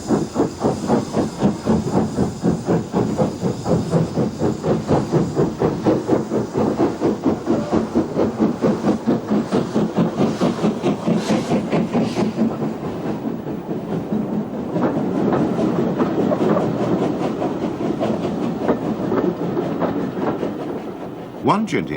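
A preserved LMS 'Jinty' tank steam locomotive in BR livery working a Christmas train on the Swanage heritage line, with rhythmic exhaust chuffs and steam hiss running steadily throughout, close and loud, wheels clicking beneath.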